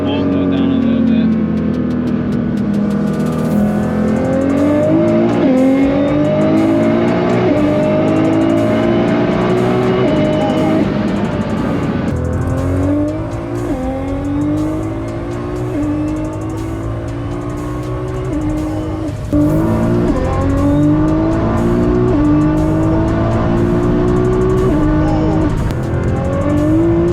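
Nissan GT-R R35 tuned to 980 wheel horsepower pulling hard in second gear, a loud close engine roar climbing in pitch through repeated surges with brief shift-like dips, with people talking over it.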